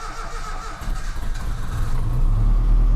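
A car engine on a simple turbo project catches and settles into running, a low rumble that builds and grows steadier and louder toward the end, with no voices over it.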